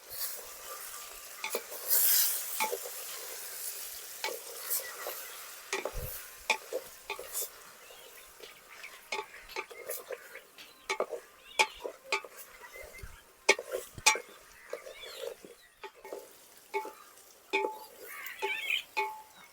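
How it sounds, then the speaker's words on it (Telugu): Brinjal curry being stirred in a pan, with repeated scraping strokes and light clinks of a spoon on metal over a faint sizzle, close and intermittent. "మొత్తం కలిసేలాగా కలుపుతున్నా"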